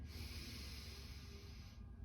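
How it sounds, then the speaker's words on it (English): A person draws a slow, steady breath in during a guided breathing exercise, a soft continuous airy hiss held for about two seconds, faint and close, with no talking. "So I'll breathe in again"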